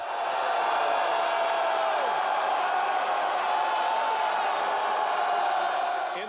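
Convention delegates in a packed hall loudly shout and jeer in opposition, a sustained roar of many voices that holds steady throughout without pause.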